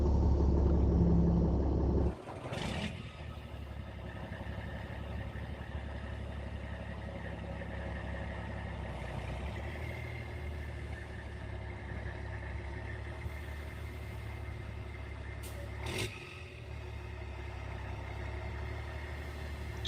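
A truck with a straight-pipe exhaust idles nearby in a steady, low rumble, with a sharp thump near the start and another toward the end.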